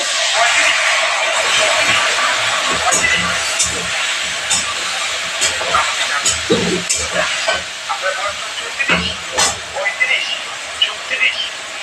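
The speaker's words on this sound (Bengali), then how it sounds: "একটু আমি জল দেবো, আলুটা সেদ্ধ হবে।" Water hits spiced potatoes frying in a pan, setting off a loud steady hiss and sizzle that gradually breaks into irregular crackles and pops while someone talks.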